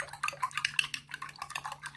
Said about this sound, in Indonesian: Saya akan kocok lepas.